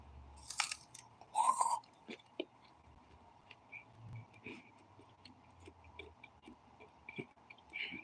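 Someone chews and bites a chunk of raw garlic up close, with soft crunches and wet mouth sounds scattered irregularly over several seconds in a quiet room.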